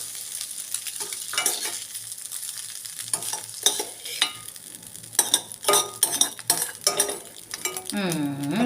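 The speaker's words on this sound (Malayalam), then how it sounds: "ഞാനിതൊരു പാത്രത്തിലേക്ക് മാറ്റുവാണേ" Cooked egg is scraped out of a hot pan into a bowl for egg noodles, with a run of brisk metallic scrapes and clinks of a utensil against the pan, close and fairly loud.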